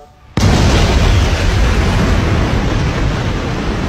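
An anime explosion bursts in abruptly after a brief quiet moment, a loud booming blast followed by a sustained roaring rumble of debris and fire that holds steady to the end.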